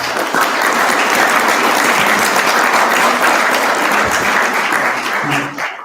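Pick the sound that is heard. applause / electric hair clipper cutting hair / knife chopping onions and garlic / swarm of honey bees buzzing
applause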